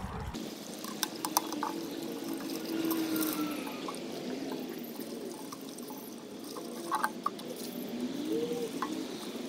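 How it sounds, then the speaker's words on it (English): Water from a garden hose splashes and pours while rinsing out a mantis enclosure outdoors, a continuous close wash with occasional sharper splatters and knocks. "So I have the hose and I'm literally just going to clean this out."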